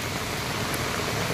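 Heavy rain pours down in a steady, dense, close hiss. Water runs off from above and the noise stays loud and unbroken throughout, with no voices.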